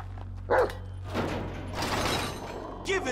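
In an Xbox Series X game, a dog gives a couple of sharp barks and yips between stretches of rough voices and game noise over a steady low hum.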